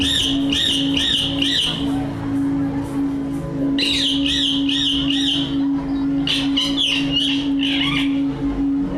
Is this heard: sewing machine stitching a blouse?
no